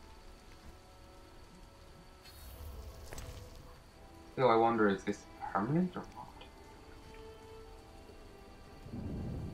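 Steady rainfall with a distant thunder rumble in The Witcher, someone talking over the storm in the middle of the clip.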